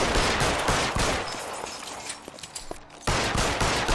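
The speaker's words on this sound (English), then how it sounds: "Do I have to shoot him?" Rapid bursts of gunfire ring out in a video game, loud and dense at the start, thinning to scattered shots in the middle, then surging again at the end, with no speech.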